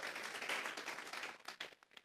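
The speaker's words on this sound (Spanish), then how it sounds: "Vamos a regalarle ofrenda de palmas al Dios de la gloria" Church congregation applauding during a Sunday service, a faint, dense patter of many hands clapping that thins into a few scattered claps at the end.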